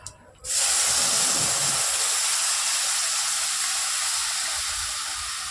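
Soaked ripe tamarind pulp hits a hot pan of fish curry made with morola fish, and a loud, sudden sizzle and steady hiss burst up, fading slowly over several seconds.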